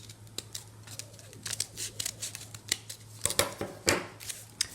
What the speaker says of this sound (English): Right, so let's cut another bit out of here.